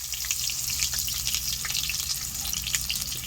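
Curry leaves and garlic hit hot oil that already holds popped mustard seeds, producing a dense, close, continuous sizzle scattered with sharp crackles, over a low steady background hum.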